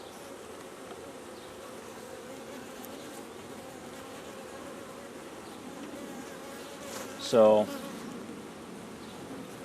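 Honey bees at an open hive during an inspection fan their wings, a steady droning buzz throughout, with one louder bee passing close near the end and a brief word of speech.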